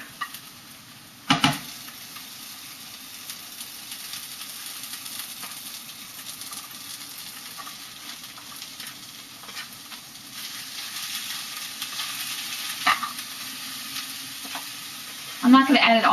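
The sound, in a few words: pork frying in pan for iridofu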